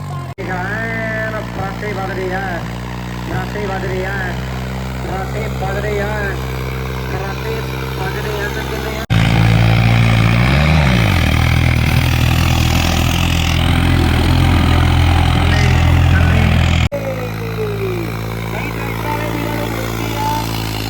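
A New Holland tractor engine chugs steadily, then revs louder for several seconds before settling back to idle, with voices talking over it.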